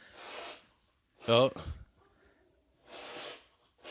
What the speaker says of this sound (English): The producer is having a reverse sneeze, guys.